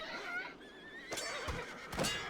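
Horses neighing in the real-time strategy game Battle Realms, a couple of loud, wavering whinnies close by with a few hoof clops underneath and no talk.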